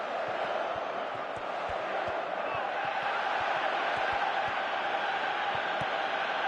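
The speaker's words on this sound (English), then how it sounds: "Crowd appreciates good football all round there" A stadium crowd in a PS4 football video game roars in a steady, dense wash of cheering, with faint rhythmic thumps underneath throughout.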